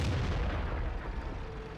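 A tank's main gun fires in World of Tanks: one heavy, deep boom right at the start that rolls out into a long, low rumbling decay, with no talking.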